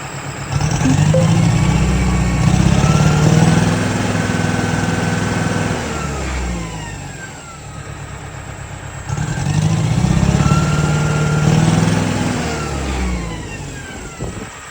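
A truck engine suffering from a bad injector idles, then revs up twice in long, loud surges that fall back to a rough idle, heard close and with no talking.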